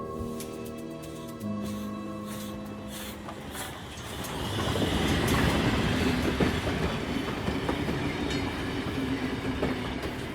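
A train rumbles steadily along the rails, the sound swelling louder midway with broadband rolling noise and faint rhythmic clatter, no voices.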